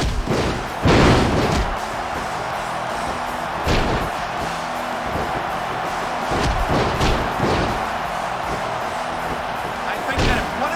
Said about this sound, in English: What a huge power bomb.